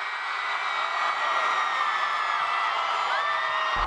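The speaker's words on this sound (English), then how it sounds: "the crowd went wild" A large crowd roars and cheers continuously as Olympic boxer Katie Taylor steps onto a stage at a homecoming welcome in Bray, with a dense, sustained wash of voices throughout.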